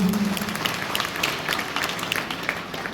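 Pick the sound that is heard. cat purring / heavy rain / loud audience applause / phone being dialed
loud audience applause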